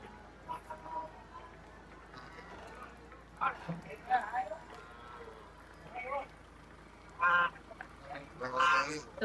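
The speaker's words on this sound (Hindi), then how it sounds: "तो गाइस ये हमें मिली है यहाँ पर बत्तखें" Ducks quack and honk in short, scattered bursts near a pilgrimage site at Naimisharanya Dham, some calls louder than others, with people talking in the background.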